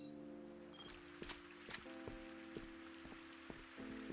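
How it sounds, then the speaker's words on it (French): Steady rain patters through a scene in the video game Viewfinder, a continuous hiss with occasional sharper drops and soft thuds over a faint musical hum, no voices. "Oh, il pleut."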